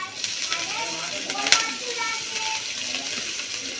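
Grated garlic and green chili frying in hot oil, a steady soft sizzle with a few stirring scrapes and one sharp clink midway.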